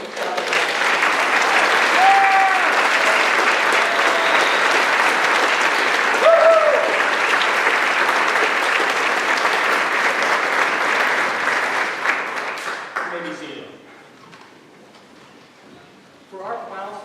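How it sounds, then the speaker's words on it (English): An audience at a National Honor Society induction ceremony claps for the newest chapter inductees, steady dense applause for about twelve seconds before fading out, followed by a brief quiet stretch and a voice starting to speak. "please join me in a round of applause for our newest inductees of the local chapter"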